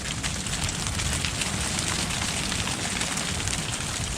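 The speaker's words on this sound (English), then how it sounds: "That's not rain. That's ice hitting the tent right now." Ice pellets patter densely and steadily on a tent during a winter storm at night in a Minnesota state park, a constant close hiss of tiny impacts with no talking.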